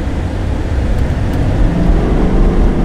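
A lifted Chevy truck cruises along the road, its engine a steady, loud low rumble mixed with broad road and tire noise that swells slightly as it picks up speed.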